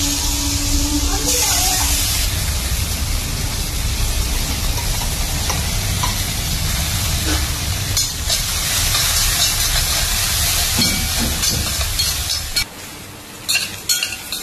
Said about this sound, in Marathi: आपण सगळे मोल्ड्स इडली पात्रात ठेवलेले आहेत आणि 15 ते 20 मिनिट आपण ही इडली वाफवून